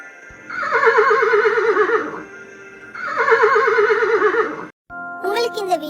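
A horse neighs twice in long, loud, quavering whinnies close by, then a short burst of a different high sound at the end.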